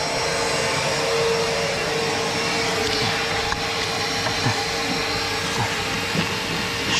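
A vacuum cleaner runs continuously on the seats of a Suzuki Vitara, giving a steady, loud suction roar and hiss with small scraping bumps as the nozzle works into seams and crevices.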